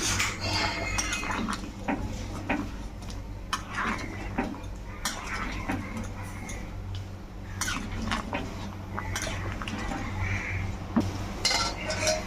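Mutton being stirred in a cooking pot after hot water is added, a spoon repeatedly clinking and scraping against the metal in an irregular rhythm over a low bubbling background, close and without talk.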